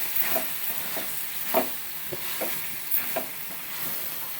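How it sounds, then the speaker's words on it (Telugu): Ginger garlic paste fries in a pan for mutton liver fry, a soft sizzle under repeated scraping stirs at an irregular rhythm, close and fairly quiet. "అల్లం వెల్లుల్లి పేస్ట్ బాగా వేగనివ్వాలి"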